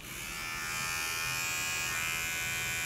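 A Nova NHT 1076 beard trimmer runs steadily, its small electric motor giving a continuous close-up buzz with a bright whine, even and unbroken throughout.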